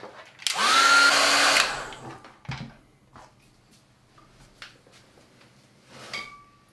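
A hair dryer blows on watercolour paint in a short, loud burst lasting about a second, then shuts off, followed by faint handling clicks and small knocks nearby.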